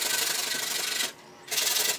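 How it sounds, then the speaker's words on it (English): Sandpaper rubs hard and fast over a surfboard's tail ding repair near the tape, a close, loud scratchy hiss that stops briefly for a short pause and then resumes. "Try and sand it down."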